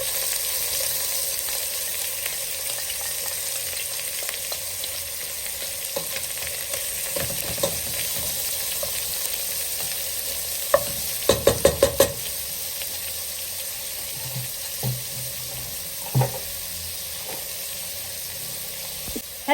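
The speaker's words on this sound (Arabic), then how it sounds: "هسه راح نضيف البصل عليه." Onion and meat frying together in a pot, a steady sizzling hiss throughout, broken by clustered scraping and knocking as a utensil stirs the pan, plus a few isolated clinks.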